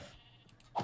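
A single short sheep bleat from Minecraft sounds at the very end, brief and fairly faint after near silence.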